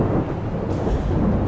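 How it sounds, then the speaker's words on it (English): Rolling thunder in the video game Alice: Madness Returns, a steady loud low rumble with a faint crack partway through. "there is no way you can hear anything other than the thunder in this game right now."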